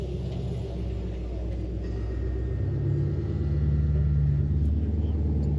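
Several hot rod cars rumble steadily as they pull into a drive-in movie theater at night, a low, continuous engine drone that swells slightly louder midway, with a faint voice briefly underneath.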